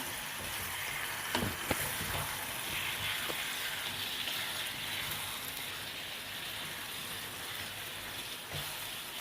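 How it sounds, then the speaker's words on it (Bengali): Marinated chicken in cooked-down masala sizzling in a pan, a soft continuous crackle like light rain with a few sharper spatters, fairly quiet and steady throughout. "এবার আমি ম্যারিনেট করা চিকেনটা এর মধ্যে দিয়ে দেব।"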